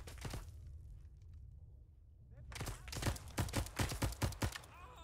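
Rapid bursts of rifle fire in Arma 3 with the S.O.G. Prairie Fire setting: a short shot at the start, a quiet pause, then a dense run of close, loud cracks in quick succession.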